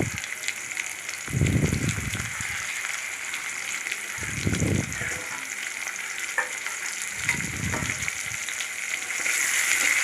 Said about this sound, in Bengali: পেঁয়াজ রসুন কুচি দিয়ে ভালো করে নাড়াচাড়া করে নিচ্ছি পেঁয়াজগুলো একটু ভাজা ভাজা করে নেব